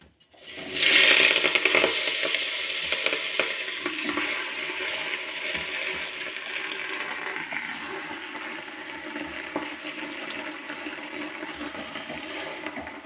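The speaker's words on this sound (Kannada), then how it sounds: "ಎಣ್ಣೆ ಬಿಸಿ ಆದಮೇಲೆ ಸೊಪ್ಪು ಹಾಕೋಬೇಕು" Palak spinach greens dropped into hot oil for a village-style soppu saaru give a sudden loud, watery sizzle that settles into a steady hiss for over ten seconds.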